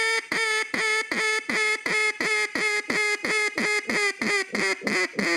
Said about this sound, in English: This is a hail call when you see ducks at a long distance.